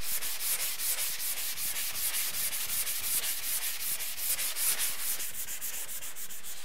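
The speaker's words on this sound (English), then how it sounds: "All right, so I've sanded this," Steady back-and-forth rasping of hand sanding over a drywall patch, a rapid regular scratching rhythm close up and fairly loud, with no talking.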